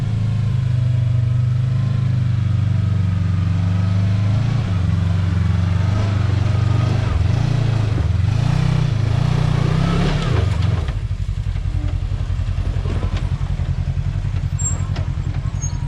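Kawasaki KRX side-by-side on 35-inch tires driving a rough trail, engine droning loud and steady with rising and falling revs, clatter of the chassis over bumps, and a voice talking over it.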